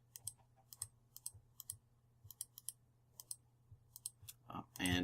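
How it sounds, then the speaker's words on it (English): Rapid clicking from a mouse and keyboard while playing Minecraft, sharp irregular clicks in small clusters over a faint background hum, with a brief louder rustle at the end. "I know that reduces the amount of clicky noises you guys hear"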